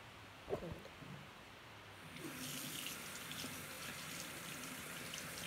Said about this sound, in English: Now I'm just gonna wash my face in really, really cold water.